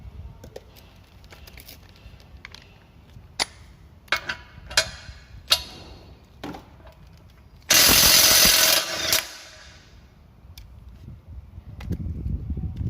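A Makita 1/2-inch cordless impact wrench on speed setting 4 loosens a bolt, a loud dense hammering burst of about a second and a half, close by, after scattered clicks and handling knocks.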